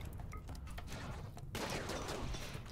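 Rapid gunfire in the video game Rimworld concentrated on an Inferno Cannon, a steady rattle of crackling shots that swells into a heavier, denser barrage halfway through.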